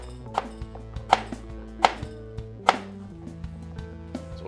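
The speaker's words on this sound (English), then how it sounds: "we wanna slice them thin because we want the most amount of surface contact between the vodka and the red pear" Knife slicing red pears thin on a cutting board for a vodka infusion: a series of distinct, close chops at an uneven pace over a low background hum, with no talk.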